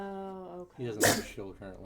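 A single sharp sneeze bursts out during a tabletop game session at a charity gaming stream, sitting amid people talking just before and after it.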